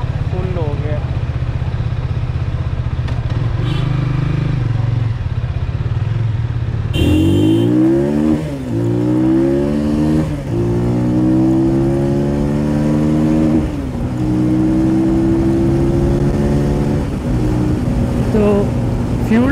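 A Benelli TNT 25 motorcycle running on Euro 5 petrol is ridden along, its engine droning close and loud, climbing and dropping in pitch through repeated throttle and gear changes, while the rider talks over it.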